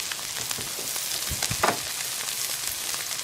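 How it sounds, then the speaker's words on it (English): Stir fry sizzling steadily in a pan, a dense continuous hiss with small crackles and a few louder pops, close and alone without talk. "can you guys hear a nice sizzle?"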